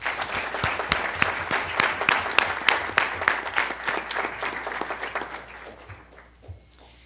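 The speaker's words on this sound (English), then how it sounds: "One more round of applause" Applause from parents, staff and guests at a school board meeting after a STEAM Night thank-you, dense clapping with sharp individual claps, thinning and fading out over the last couple of seconds.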